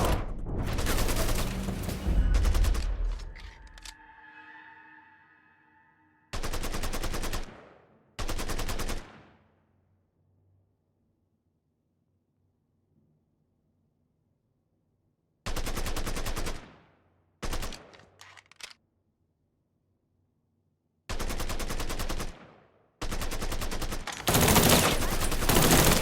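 Gunfire in the video game Mafia III, with loud bursts of rapid shooting separated by stretches of near silence, close and forceful, each volley stopping abruptly.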